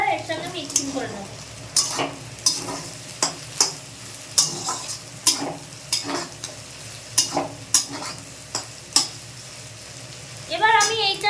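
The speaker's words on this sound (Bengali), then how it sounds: "এবার এগুলো এর সঙ্গে মিক্সিং করে নেব।" Egg bhurji being stirred and mixed in a sizzling frying pan, with a spatula scraping the pan in repeated sharp strokes roughly every second over a continuous fry hiss.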